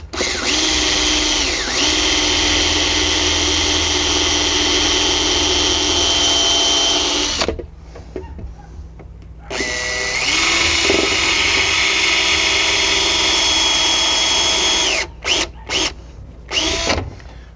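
A power drill drilling into Corian whines loudly and steadily, stops for a couple of seconds, then runs again in a long burst before stuttering off and on.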